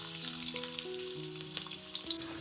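Garlic sizzles in onion oil on a hot griddle, a quiet continuous crackle with small pops and a few faint clinks of stirring.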